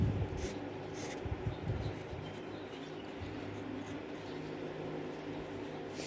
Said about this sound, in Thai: แล้วเราก็วาดต้นไม้ค่ะ